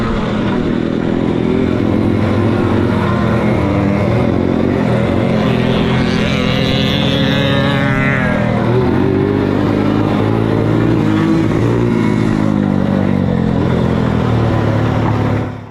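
Loud motorcycle engine roars continuously at a race track during a Le Mans-style start in New Zealand, including a two-stroke bike with an expansion chamber, pitch sweeping up as it revs and passes close by.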